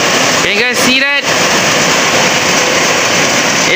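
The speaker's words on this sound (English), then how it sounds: "It is raining very heavily." Heavy rain pours in a steady, loud broadband roar that fills the whole stretch, with a voice speaking briefly near the start over the downpour.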